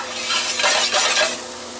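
Sweet potato home fries being stirred in a frying pan, a continuous loud scraping, shuffling sizzle close by, with no voices.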